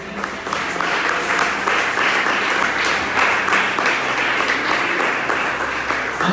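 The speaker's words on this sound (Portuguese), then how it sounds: "Pode aplaudir a Jesus" A church congregation applauds during a Portuguese-language sermon, steady dense clapping filling the whole stretch at full strength with no pause.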